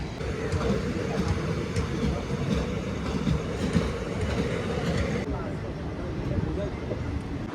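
The 53092 Azimganj–Krishnanagar passenger train pulls away with a rolling rumble and faint rhythmic wheel clacks, close and continuous, while voices carry on nearby.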